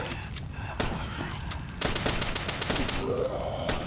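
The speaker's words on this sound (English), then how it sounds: "this sniper here, I've given that character a level 2 rifle, the first blue weapon I've ever equipped, and it's incredible. It kills everything in one shot." Sharp video-game gunshots from a level 2 sniper rifle crack out in a quick run of repeated reports, the later shots louder and closer together.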